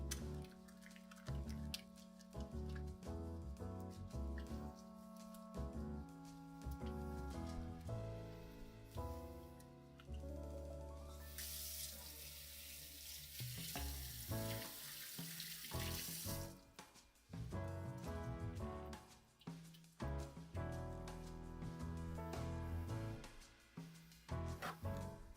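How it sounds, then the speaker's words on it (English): Running tap water pours into a kitchen sink as hands are washed after handling raw meat, a steady wash of water with clatter and shifting flow, loudest in a sustained rush midway through. "I should wash my hands because that was meat"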